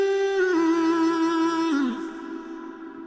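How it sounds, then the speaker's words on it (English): A sustained sung vocal note in FL Studio holds, then ends, and a long hall reverb tail swells and fades out, having been ducked beneath the voice by a sidechain while it sang. "then it lets all of that long tail and that reverb flow."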